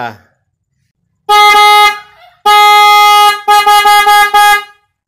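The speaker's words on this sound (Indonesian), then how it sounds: "Jadi ini klakson ini suaranya bisa dua ya." Three loud car horn blasts sound close by, a long honk, then a sustained one, then a rapid series of short toots.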